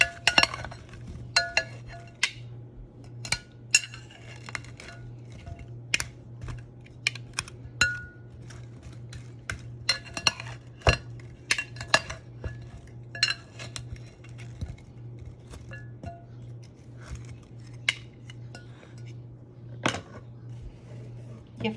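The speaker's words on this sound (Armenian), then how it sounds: "սոխի փոշի, հիմա սա խառնենք այսպես" A utensil stirs onion powder into a mixture, giving a close run of light metallic clinks and scrapes against the bowl at an uneven rhythm, with no talking.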